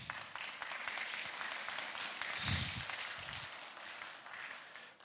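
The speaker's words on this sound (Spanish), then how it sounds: "Vale el aplauso de ustedes." An audience applauds at a university faculty anniversary ceremony, a faint, steady patter of clapping from a distance lasting a few seconds.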